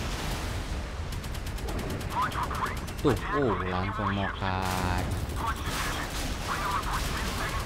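Rapid bursts of missile fire from a warship in a naval combat video game, crackling volleys overlapping electronic game tones, while someone talks casually over the action.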